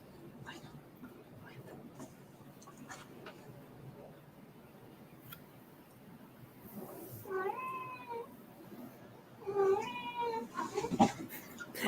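A pet cat named Nora meows twice close by, the calls clear over a faint room hush, with some quiet talking nearby.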